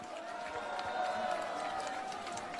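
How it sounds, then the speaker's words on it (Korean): A rally crowd applauds and cheers in a dense, steady wash of noise that holds at an even level throughout, with no single voice standing out. "다시 한번 힘찬 박수 부탁드립니다."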